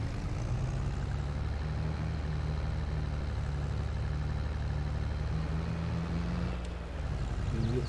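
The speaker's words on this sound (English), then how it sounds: "Get the tractor up the hill here" Tractor engine in Farming Simulator 22, a steady low diesel rumble droning continuously as the machine drives along, close and even with only a slight dip near the end.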